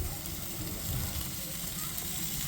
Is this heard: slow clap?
no